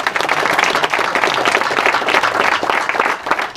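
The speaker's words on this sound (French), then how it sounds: "que vous pouvez applaudir" Lively, close applause and clapping from a crowd at a cycling club's rider presentation, welcoming a racer. Bursts of clapping rise and fall across the short stretch without speech.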